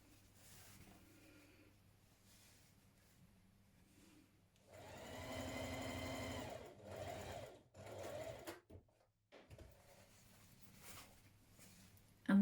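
Sewing machine stitching pleats in fabric, with quiet handling at first, then a loud sustained run of stitching, a couple of shorter bursts and a final brief spurt.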